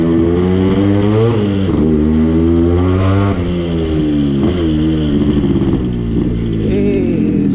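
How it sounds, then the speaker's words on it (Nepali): A Yamaha RXZ135 motorcycle engine runs loud and close indoors, its throaty, echoing note rising and falling steadily through repeated revs, with no talking. "यहाँ कस्तो एक्को साउन्ड हान्छ बाइकले"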